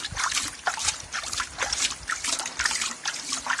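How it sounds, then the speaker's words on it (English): Water splashes and spatters repeatedly against a Streamlight Siege lantern up close, a continuous wet sloshing with irregular bursts. "I'm just going to keep splashing it."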